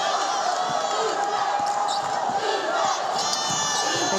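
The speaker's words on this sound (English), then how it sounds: "Boy, this crowd, not happy." Basketball arena crowd at a Boise State vs Wyoming Mountain West Tournament women's game, a loud sustained roar of displeasure with scattered shouts and ball bounces, filling the whole space without break.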